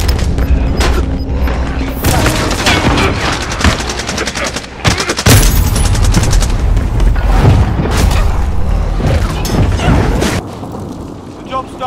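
Heavy video game gunfire and explosions while shooting a mission block in a zombie shooter, dense bursts of shots and booms throughout with excited voices talking over the battle.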